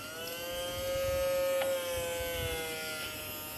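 A household washing machine runs with a steady electric motor whine and a low rumbling churn, close and continuous with no talking.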